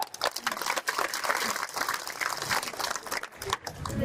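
Crowd at an outdoor political rally applauding, a dense, continuous wash of clapping from many hands with a faint voice underneath, steady over a few seconds.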